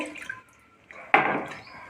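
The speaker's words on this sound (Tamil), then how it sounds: "ஒரு கப் பால் நல்லா இதில் விட்டு" Milk poured from a cup into a cooking pot while making paghu pongal, a sweet rice dish, giving a short liquid splash and pour that starts abruptly and tapers off, close and fairly loud.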